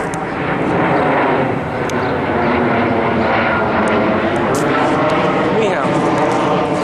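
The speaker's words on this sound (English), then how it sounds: "What's that, an airplane?" An airplane flies overhead outdoors around sunset, a loud, steady broadband drone that fills the whole stretch, with voices mixed in beneath it.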